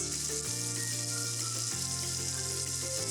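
Chopped onion, carrot and garlic fry in a pot with a steady, close hissing sizzle, alongside a constant underlying musical tone with shifting notes.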